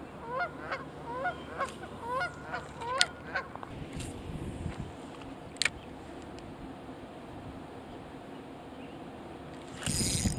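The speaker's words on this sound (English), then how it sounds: "That goose came flying from behind me. He was like 12 feet away. Now they're fighting over there." Geese fighting honk loudly in a rapid run of harsh calls for a few seconds near a fishing spot, then fall mostly quiet apart from a couple of isolated sharp honks.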